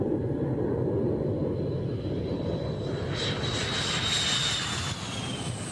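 A MiG-29 jet fighter's engine roars on takeoff, a loud, steady, broad rumble that holds all the way through, joined partway in by a thin rising whine.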